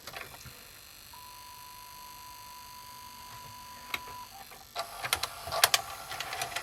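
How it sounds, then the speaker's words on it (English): Panasonic MV-HD620 MkII VCR with a faulty motor giving a thin, steady high-pitched squeal for a few seconds over a low mechanical hum, then clicking and clattering from the tape mechanism, close up with no talk. "this has got a squealy motor maybe"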